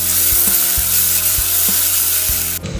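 Tomato, shallots and ginger-garlic paste fry in a pan with a loud, steady sizzle, while a spoon stirs through with repeated low scraping knocks against the pan at a regular pace, close up.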